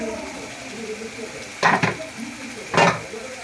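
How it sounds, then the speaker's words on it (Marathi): Water from rinsing a blender jar is poured into egg masala curry cooking in a pan, giving a steady sizzle with two short bursts of splashing and hissing midway and another near the end. "आपण तेच पाणी थोडेसे कालवणात ओतणार आहे"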